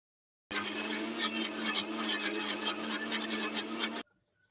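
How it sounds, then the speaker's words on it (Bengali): Electric blender runs continuously for about three and a half seconds, grinding a coriander leaf batter for poa pitha, loud and steady with a whirring motor before cutting off abruptly. "এখন আমি এটা আবার ব্লেন্ড করে নিচ্ছি।"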